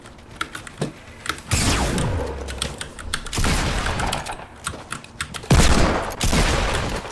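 Video game combat with a disco grenade detonating amid bursts of gunfire: loud sharp blasts and rapid clattering shots, with booming hits near 1.5, 3.3 and 5.5 seconds over continuous busy action.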